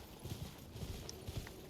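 Horse hooves clip-clop at a steady walking pace in Elden Ring, soft and fairly close over a faint background ambience with several paired hoof strikes across the moment.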